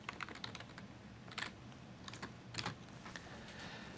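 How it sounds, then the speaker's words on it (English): Quiet, close computer keyboard typing, a brisk irregular run of soft key clicks with a few louder clusters, heard alone without speech. "you can start typing in here"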